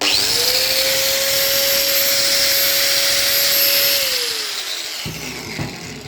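A steady high-pitched electric whine of a Bosch Professional GWS750-125 angle grinder (750 W, 125 mm) running continuously, then spinning down and fading near the end.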